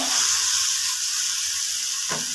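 Tomatoes sautéing in a pan for tomato chutney, a close steady sizzling hiss that holds evenly throughout with a soft scrape near the end.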